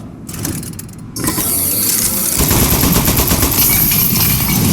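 Turret firing shots in Aperture Desk Job, a loud, dense rapid burst of gunfire that starts after a brief quieter lead-in and continues steadily to the end.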